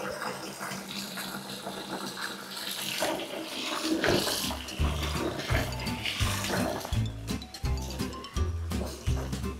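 Water runs and splashes in a bathtub as an antique Persian rug is rinsed, a steady wash of flow that turns into rhythmic sloshing and thumps as the wet rug is moved around in the water.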